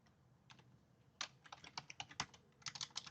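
Typing on a computer keyboard in the Google Cloud Console: a brief pause, then a quick run of light, close key clicks, with no talking.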